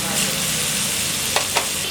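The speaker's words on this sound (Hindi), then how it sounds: "तेल गरम हो गया है। अब हम इसमें डालेंगे 8 से 10 गार्लिक पॉट्स जिसको हमने क्रश कर लिया है" Crushed garlic fries in hot oil, a steady close sizzle with a couple of brief clinks or stirs near the end, no talk.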